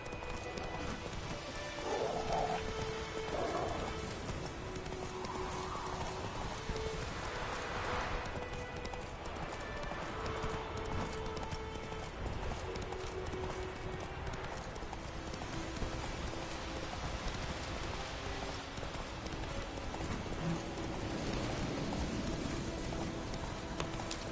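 Roach, Geralt's horse in The Witcher 3, clip-clops steadily through rain, with an occasional snort or whinny and a faint voice calling to the horse.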